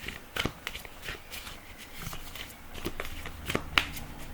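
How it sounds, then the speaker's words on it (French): Oracle cards being laid out one after another on a surface, soft papery slaps and slides with a few crisp flicks, close and fairly quiet, no talking. "je mets les cartes là"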